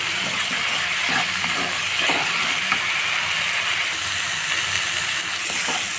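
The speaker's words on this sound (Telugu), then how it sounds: "బాగా ఫ్రై అవుతుంది." Spinach frying in hot oil in a pan, a loud continuous sizzle and hiss with faint stirring clatter underneath, no talk.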